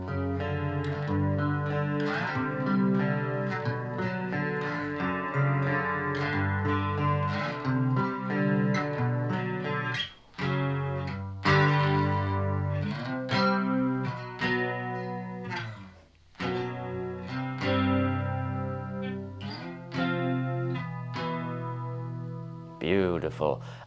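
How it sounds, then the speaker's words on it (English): Electric guitar run through a Synergy 2CP preamp module with a whammy detune effect engaged, giving a chorused, shimmering tone as sustained chords and riffs ring out loudly and continuously, with brief pauses between phrases. "I think the detune effect on the whammy is a very, very nice chorus"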